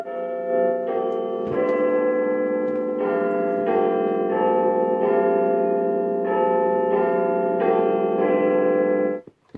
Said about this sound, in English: you can hear Big Ben chiming away on that one